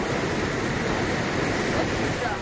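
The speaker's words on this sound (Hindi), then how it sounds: "उत्तरकाशी में गंगा की लहरों का ये शोर खौफ पैदा कर रहा है" The flooding Ganga river at Uttarkashi roars with dense, constant rushing water and crashing waves, loud and unbroken throughout.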